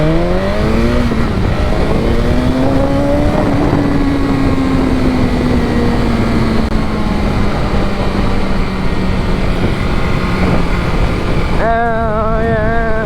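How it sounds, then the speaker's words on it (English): A 2025 BMW S1000RR sport bike roars loudly on a track, the engine note climbing through the gears with a steady high-revving howl, then a sharp shift near the end. "Riding an S1000, bro."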